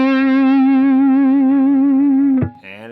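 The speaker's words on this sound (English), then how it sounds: "So let's turn the gain down, like a edge of breakup kind of sound." An electric guitar with light edge-of-breakup overdrive through the Neural DSP Archetype Abasi plugin holds a single sustained note with slight vibrato, then a quick pick attack and a new note near the end.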